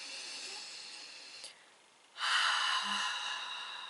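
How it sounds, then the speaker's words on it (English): A slow, deep breath in and out during an EFT tapping exercise: a long soft airy exhale, a brief pause, then a louder breathy inhalation, close and alone. "So nice deep breath in and out."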